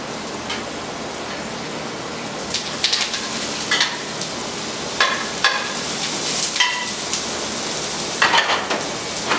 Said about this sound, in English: I have my shallots cooking. So I'm going to add my broccolini.